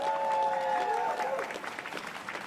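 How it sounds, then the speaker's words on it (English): Applause from a crowd at an outdoor Pride flag raising ceremony swells and carries on steadily, moderately loud, with a voice briefly heard over the clapping. "Give them a huge round of applause."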